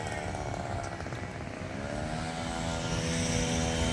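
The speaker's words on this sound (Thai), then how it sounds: "โอ้เสียงรถมอไซค์ก็ได้" A steady motorcycle engine drone, fairly close, its pitch gradually rising as it revs.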